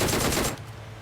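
Rapid automatic gunfire crackles in a video game shootout, a dense burst lasting about half a second before cutting off into quieter game ambience.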